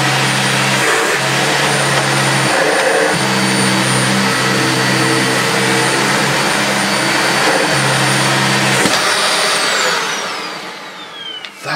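A Dyson Animal Ball 2 UP24 upright vacuum cleaner runs loudly on carpet, a steady close whine with a pitch that shifts as it is pushed, then winds down near the end.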